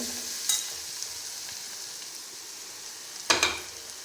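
Garlic frying in a pan for a spiced potato curry, a steady soft sizzle throughout with two sharp bursts of stirring, one near the start and a louder one toward the end.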